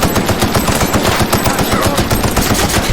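Rapid automatic gunfire in the video game The Outer Worlds, a loud continuous stream of closely spaced shots that fills the whole moment with no voices.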